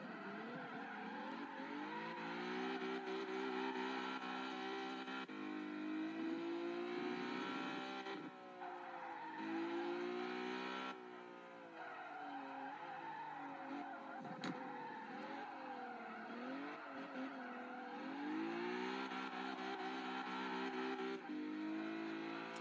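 Race car engine in a driving video game, a Toyota AE86, Honda Civic Type-R EK9 or stock Lotus Exige, held against the rev limiter, producing a steady, faint high buzzing drone with stuttering dips and wavering pitch, without talk.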